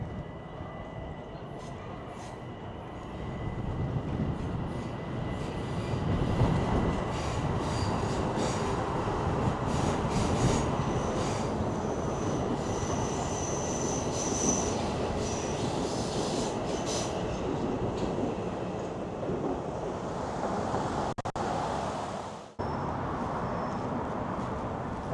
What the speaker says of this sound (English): This train came from upstate and is heading downtown.